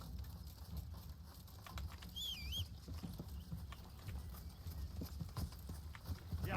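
Hooves beat at a steady, quick gallop as a horse is ridden in the medieval video game Kingdom Come Deliverance, faint and low, with a brief high bird chirp midway.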